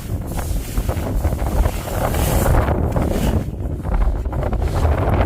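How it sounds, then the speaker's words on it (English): Strong wind on a farm field roars and buffets the microphone continuously, with gusty low rumbling rising and falling throughout and no voices. "it's windy today"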